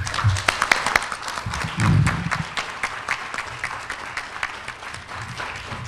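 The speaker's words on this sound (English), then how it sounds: "Could we give her a round of applause as she comes?" An audience claps together in sustained applause, steady and fairly close, with a few voices briefly underneath.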